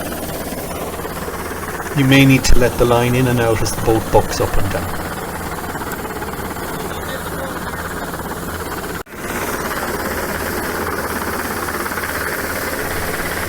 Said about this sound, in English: The helicopter will then hover over away from the boat a little bit.